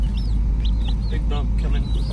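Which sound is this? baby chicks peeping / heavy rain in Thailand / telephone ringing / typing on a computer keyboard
baby chicks peeping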